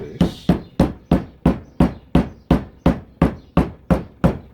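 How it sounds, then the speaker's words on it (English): A hammer taps the metal seal lip on a 1980 Land Rover Series 3 109 in a steady, even rhythm, about a dozen sharp close strikes in a row with nothing else around them. "if I keep banging around the lip like this"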